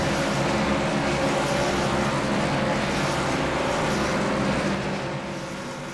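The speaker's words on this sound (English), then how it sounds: "Man, that car is loud." A NASCAR race car roars at Talladega Superspeedway in a racing video game, a loud, steady engine drone that holds constant, then eases slightly in the final second; no talking.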